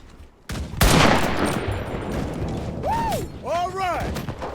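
Artillery barrage in the shooter game Enlisted: a sharp blast sets off a dense, roaring wall of rumbling fire that continues for several seconds, with rising and falling whistling shell sounds near the end.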